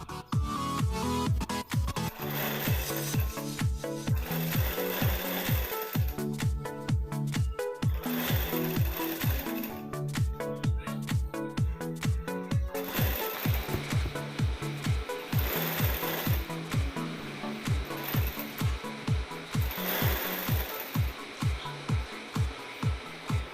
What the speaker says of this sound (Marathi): मी अर्धा इंचच्या गॅपवरती मी शिलाई मारून घेते